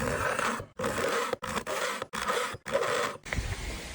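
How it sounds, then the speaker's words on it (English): A slicing cleaver is drawn across a Pro Edge sharpener's stone in repeated gritty scraping strokes, about five passes separated by brief silent pauses, close and fairly loud. "Let's sharpen it. And with the pro edge."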